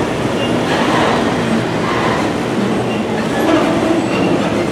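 A train at Fullerton slows toward a stop, a loud, close rumble of wheels and rail noise that rolls on steadily with faint clatter throughout.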